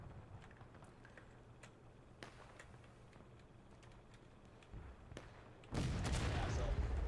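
Artillery fire from the CSA side in the Civil War game War of Brothers lands as a few scattered distant thumps, followed near the end by a loud, close booming blast that lingers.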